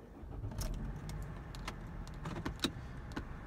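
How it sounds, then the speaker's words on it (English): Car keys jingle faintly and the ignition is turned, with a soft vehicle hum underneath; quiet, close and brief, with no speech. "So what we're gonna do is we're gonna turn the vehicle on."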